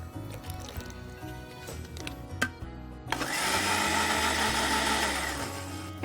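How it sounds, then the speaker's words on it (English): An electric kitchen blender whirring through a banana mousse mix with low-fat yoghurt and dissolved gelatine, starting after some faint kitchen clatter and running loud and steady for about three seconds. "And then I will just add it back into the blender."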